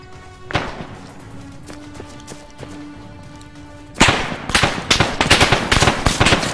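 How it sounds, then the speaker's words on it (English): Rapid bursts of gunfire in a video game, a few isolated shots early on over a tonal musical background, then dense loud volleys crackling without pause over the last few seconds. "we're hearing shots"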